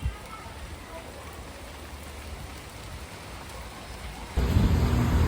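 Steady rain patters in a soft, continuous hiss, then grows suddenly heavier and louder near the end with a low rumble.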